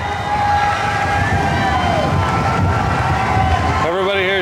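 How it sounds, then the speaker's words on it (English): A large crowd on a cruise ship deck cheers and shouts loudly and continuously for late-boarding passengers, with a whistle-like tone and voices mixed into the din. "Listen to the thunderous applause."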